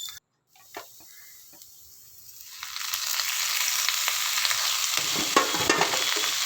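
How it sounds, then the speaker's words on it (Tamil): Drumstick leaves being stirred into roasted urad dal in a hot pan, a soft clatter at first that builds into a steady sizzle with scraping stirs, close and alone. "முருங்கைக்கீரையை சேர்த்துட்டு நல்லா கிளறி விடணும்"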